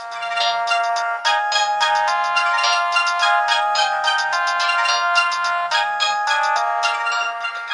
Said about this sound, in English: friends, let's check out the ringtone.